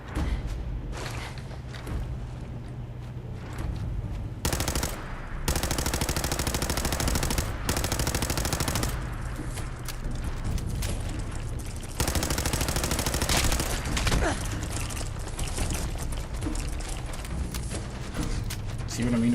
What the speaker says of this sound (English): We appear to be under fire.